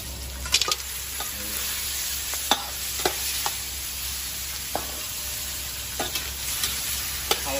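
Shellfish stir-fried with holy basil in a hot pan give a continuous, close sizzle, broken by sharp, irregular clacks and scrapes of a spatula stirring the wok.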